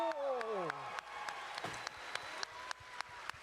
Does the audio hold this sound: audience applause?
yes